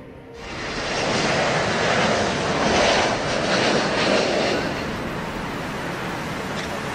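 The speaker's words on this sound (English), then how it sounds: "the A-26 Invader suffered a nose gear collapse while landing at EAA AirVenture Oshkosh" An A-26 Invader lands at EAA AirVenture Oshkosh, where its nose gear collapses. A loud, broad engine roar and rushing noise swells and holds steady without distinct impacts.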